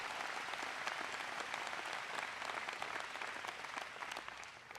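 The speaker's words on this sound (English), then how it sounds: "Give John a big round of applause" Steady applause rolls through a town hall audience at a health care event in Montana, broad and even clapping from many hands heard from a distance, fairly faint and without distinct voices.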